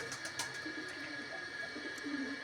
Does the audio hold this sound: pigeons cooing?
yes